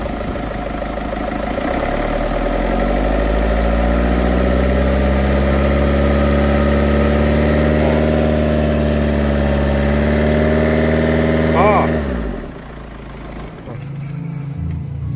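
The engine of a Mercedes-Benz Vito W639 van, which is pushing oil out past the dipstick, runs at a loud, close, steady drone whose pitch rises and falls as it is revved, then cuts off abruptly near the end.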